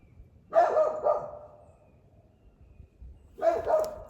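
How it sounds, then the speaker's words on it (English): A dog barks twice, a few seconds apart, each a short cluster of sharp barks, moderately close with quiet background between. "I would make Murphy do it because he's being a bad boy barking."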